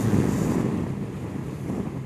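A breeze buffets the microphone while riding near Lake Mead, making a steady, close rushing roar with no voices.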